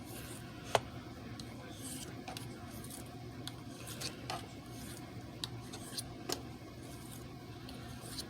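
A knife blade is sharpened with alternating crossing passes over a stone and scratch pad, giving a soft continuous rasping rub punctuated by a handful of brief clicks and scrapes, close and fairly quiet.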